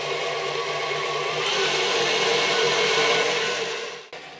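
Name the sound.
electric mixer mixing cocoa frosting in bowl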